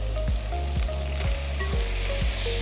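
Tomatoes sizzle in masala in a pan for chicken dum biryani, a steady close frying hiss punctuated by regular scraping stirs about every half second.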